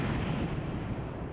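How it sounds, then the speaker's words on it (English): Dense, continuous rumbling gunfire and heavy booming mortar blasts blend into a loud, sustained roar with no pauses, during a firefight between security forces and militants at a building under construction in Poonch town. "The under-construction mini-secretariat in Poonch town resounded with gunshots and mortar gunfire"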